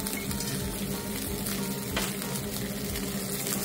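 A Boarri Craft Kobe sirloin steak fries in a pan with a little olive oil, giving a steady, loud, dense sizzle close up with no talking.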